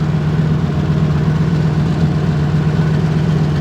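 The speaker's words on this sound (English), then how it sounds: "the idle with these mufflers sounds amazing" A custom-built Mustang, the Scrapstang, idles through side-exit exhaust mufflers with a steady, loud, low burbling rumble, even and unbroken with no talk.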